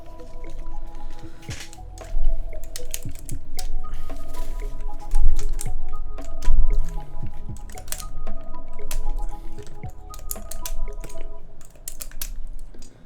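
Keycaps being pulled off a Topre keyboard one after another, irregular close clicks and snapping plastic pops with soft rattles between them, with no talking.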